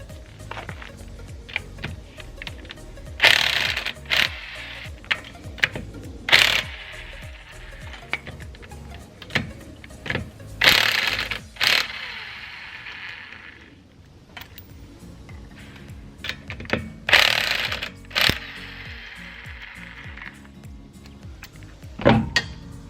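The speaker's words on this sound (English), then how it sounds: "Let's take the wheel off." Removing the wheel from a 2017 Honda Civic Hatchback with a power tool, bursts of loud whirring from an impact gun separated by clicks, clanks and quieter handling of parts.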